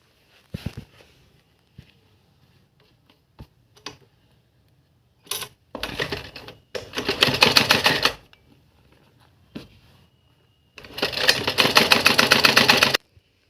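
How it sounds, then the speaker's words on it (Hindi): A sewing machine runs a line of stitching over a strip on a kurti in two main bursts of rapid close rattling, broken by quiet pauses with scattered clicks and handling taps, and no talk. "अब हम इसके ऊपर एक सिलाई और डाल देंगे, जिससे ये पट्टी हमारी इस तरह बैठ जाए।"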